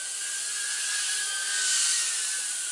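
An Eachine E010 micro quadcopter zipping around a small indoor space, its tiny propellers giving a steady, high-pitched whine that rises slightly in the middle, close and continuous with no talking.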